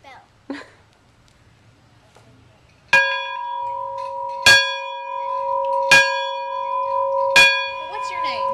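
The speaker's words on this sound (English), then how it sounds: "I am about to ring a big bell." A big bell in a historic 1848 house in Columbus, Mississippi rings four times at even intervals, each strike clear and loud with a long sustained hum between, after a short quiet stretch with a faint voice.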